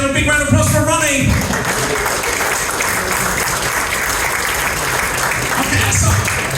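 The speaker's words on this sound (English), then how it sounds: "Big round of applause for Ronnie." Loud, dense applause fills the room for Ronnie the performing dog at a corporate dinner show, a steady wash of many hands clapping, with a voice briefly audible at the start.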